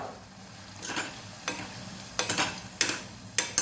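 A spoon stirring crunchy chivda into a cooking tomato mixture in a pan, with a steady low sizzle under repeated scraping strokes and light clinks against the pan, close and moderately quiet, no talk.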